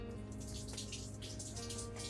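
Liquid, likely coolant, runs steadily out of an open drain plug in a continuous faint splashing trickle with no break.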